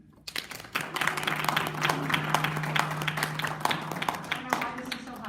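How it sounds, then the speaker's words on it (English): Audience applause at a Natrona County Commission candidate forum, a dense crowd of clapping hands that swells in after a quiet start and holds steadily for several seconds, with a faint voice underneath. "I would ask that you please give a great applause to Betsy O'Neill"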